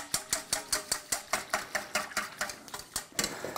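A big spoon stirs chikhirtma broth in a pot, scraping and clinking in a steady rhythmic pattern of about four strokes per second, close and fairly quiet, with no talking.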